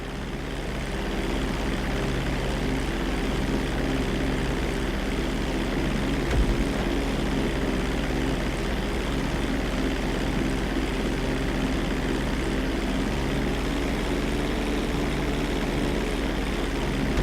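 Propeller aircraft taking off in the video game GTA V, a loud continuous engine drone with a steady airscrew hum that holds throughout.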